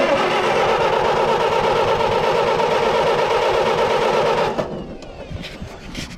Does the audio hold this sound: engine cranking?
yes